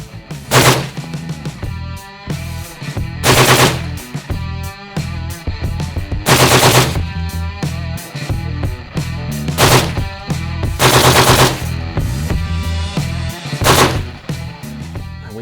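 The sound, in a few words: 6.8mm NGSW rifle firing full-auto at a steel target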